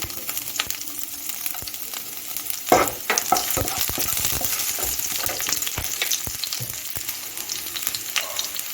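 Chopped garlic hitting hot oil over a cumin tempering, a sharp burst of sizzling that settles into a steady crackling fry with stirring clicks, close and fairly loud, no talking.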